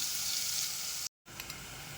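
Wet coconut masala paste with raw onion being sautéed in oil, a close, even sizzle that cuts out briefly, then returns with a couple of light stirring knocks.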